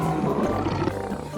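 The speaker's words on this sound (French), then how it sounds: "Regardez cette famille de lions!" Lions roaring in a children's cartoon, a brief, loud, rumbling roar filling the short moment, with a faint voice beneath it.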